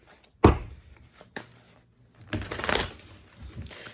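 Tarot cards being shuffled and handled at close range: a sharp riffle, then a few light taps and a longer rustling shuffle, with no talking.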